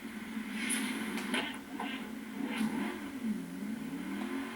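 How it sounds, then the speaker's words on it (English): A classic 1950s car engine starts up in Burnout Paradise, a steady rumbling drone with rising and falling revs and a few sharp clicks near the start, heard alone without talk. "That's the classic 50s car startup."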